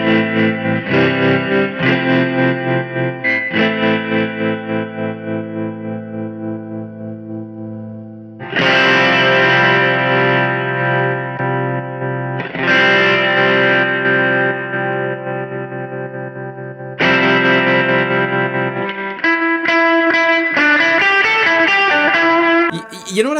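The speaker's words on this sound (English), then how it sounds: "We've got a sine wave tremolo with a spring reverb." Electric guitar through a Keeley Verb O' Trem pedal set to sine wave tremolo with spring reverb, chords pulsing in a steady wavering rhythm, ringing and washy, loud and alone with no talk, strums separated by short decays.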